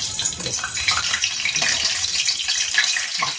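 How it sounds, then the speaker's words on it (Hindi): Hot oil is poured over fava beans and potatoes, giving a steady hissing, splashing sizzle that runs continuously and close for a few seconds. "अब इसे हम गरम तेल ऊपर से डालेंगे"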